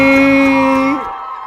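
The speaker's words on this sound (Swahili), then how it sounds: "Wapi makofi kelele tafadhali." A crowd at a live event lets out a loud, sustained held cheer with a strong sung or shouted tone that drops away abruptly near the end, leaving quieter room noise.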